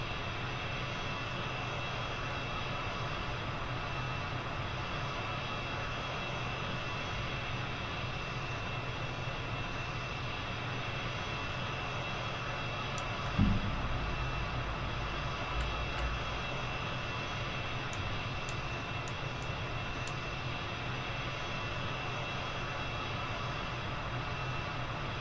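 A steady, droning aircraft engine in the Kerbal Space Program video game holds at a constant loud roar throughout, with a brief thump midway and no noticeable throttle swell.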